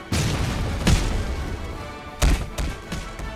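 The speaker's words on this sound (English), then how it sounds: "Now time to finish this awful video off with a cannon." Cannon blasts in the Roblox game Ragdoll Engine: a few heavy booming thuds, loud and close, spaced irregularly over a dense rumbling background with no talk.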